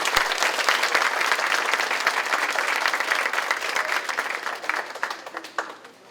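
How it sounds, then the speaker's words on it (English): At a school DARE graduation ceremony, a crowd applauds loudly and steadily for several seconds before the clapping thins out and fades near the end. "one more round of applause for that."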